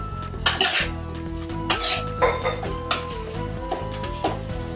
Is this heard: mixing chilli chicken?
yes